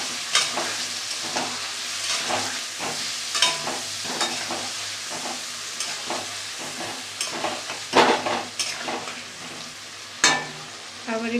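Hilsa fish frying with green chilli paste, turmeric and a splash of spice water in a pan, a close steady sizzle broken by sharp crackles and spatters, alone without talk.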